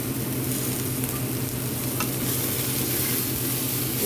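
Cluster beans with coconut being stirred in a pan, a steady soft scraping and low sizzle running evenly throughout, close and alone with no talking.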